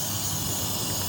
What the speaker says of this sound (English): You put just a little bit starting fluid right here. Do it like this. Spray it here a little bit.